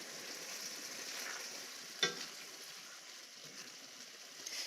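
Pasta and spaghetti with meatballs simmering in sauce in a pan, giving a steady soft bubbling sizzle with faint stirring and one sharp knock near the middle, close by with no talk.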